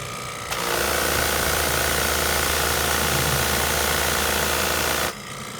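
Rotary tile grout cleaning machine spinning at about 1100 psi and 1100 to 1200 revolutions a minute, starting with a jump into a steady loud whir and hiss that holds for about five seconds, then cuts off.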